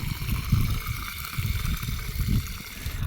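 Water poured into a glass at a roadside drinking-water stall, a steady low trickling and splashing fill that runs continuously for a few seconds at close range, with no talking.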